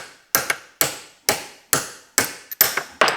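A stud extractor is tapped with a hammer onto a snapped-off stud, giving six or seven sharp metallic knocks at a steady, deliberate pace, close and clear with short ringing decays, some strikes followed by a quick rebound tap.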